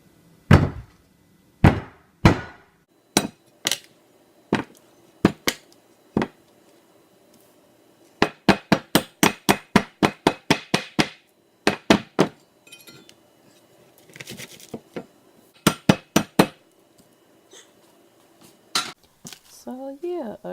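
A heavy-bottomed pan pounds food in place of a rolling pin, delivering loud, close thuds in uneven bursts, single blows giving way to quick runs of eight or more strikes with short pauses between.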